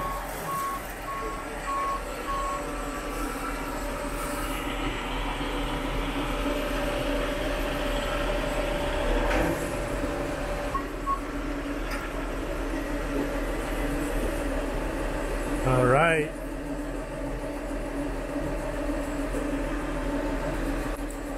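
A heavy truck idles and rumbles steadily at a driveway repaving site, its reversing beeper sounding faintly, with a brief rising engine rev near the end and a short spoken remark.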